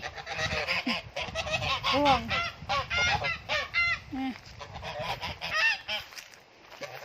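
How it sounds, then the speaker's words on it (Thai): Geese honk repeatedly and loudly, a busy overlapping chorus of nasal calls close by, with a brief spoken word among them. "ตอนนี้เหลือแต่ห่าน"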